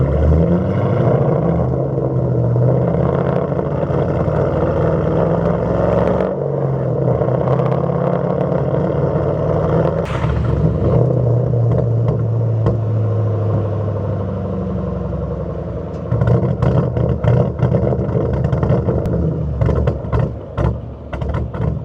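A 2005 Mustang GT 3V V8 with a possible fuel pump fault idles loudly and steadily close by, then is revved in several rising bursts toward the end, with no talk.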